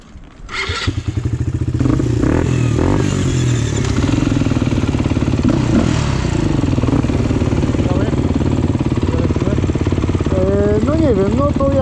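A supermoto motorcycle fitted with a new Akrapovič exhaust starts up and settles into a loud, close, rumbling idle with a pulsing throb and occasional revs, while a voice speaks briefly near the end.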